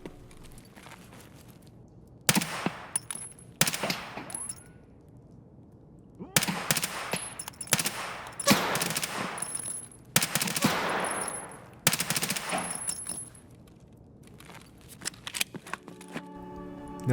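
Keter submachine gun firing in Escape from Tarkov, several rapid full-auto bursts of loud sharp cracks separated by short pauses, with brass tinkling and handling clicks between bursts.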